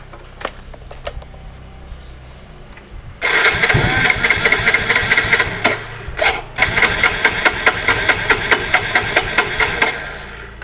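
A Yamaha Mio motorcycle's starter cranks repeatedly without the engine catching, a loud, rapid, stuttering churn with brief pauses, after a few light clicks at the start.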